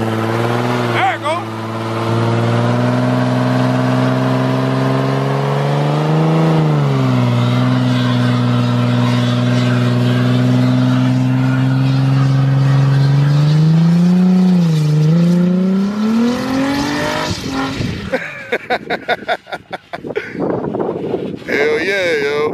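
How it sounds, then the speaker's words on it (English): An Infiniti G35 on Kumho tires does a smoky one-wheel burnout, its engine revving hard and wavering for about sixteen seconds before cutting off into exhaust rattles and crackles, with people talking loudly over it. "it's only one tire I'm spinning on that boy right now"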